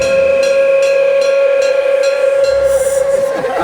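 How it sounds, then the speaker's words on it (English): A steam tourist train in Argentina near the end of the world gives a long sustained whistle tone over a rumbling run, loud and close, with no talking. "the train still runs as a tourist attraction, but underneath the scenic views and whistling steam"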